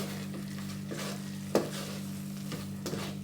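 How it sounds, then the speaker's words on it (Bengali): Soft scraping of a spatula stirring a thick mango-leather (aamsatta) sandesh mixture in a pan over a low flame, with a steady faint sizzle and a few sharper knocks against the metal. "আর একটু নাড়ব এরকম করে সমানে নাড়িতে হবে"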